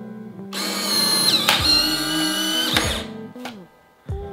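A Polaroid Lab printer whirring and motor-driving as it ejects an instant photo, a close mechanical buzz lasting a few seconds with clicks, followed by brief quieter mechanical sounds.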